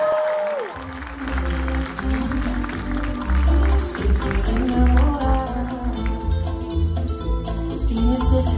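An audience applauds and cheers for a singer at a live performance. The clapping swells quickly after a brief quiet start and holds as a dense, loud, continuous wash of applause with crowd noise mixed in.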